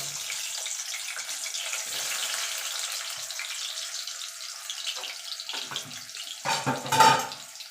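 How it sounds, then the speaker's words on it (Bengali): Potatoes frying in hot mustard oil, a continuous hissing sizzle that swells into louder crackling bursts toward the end, close, with no voices. "তেলটা গরম হয়ে গেছে এবার আলুটাকে ভেজে নেবো"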